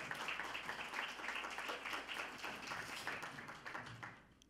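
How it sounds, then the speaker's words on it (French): Audience applause at a French-language panel on urban densification and socio-ecological plurality, a steady wash of many hands clapping at moderate level for about four seconds, thinning out at the end. "On peut l'applaudir,"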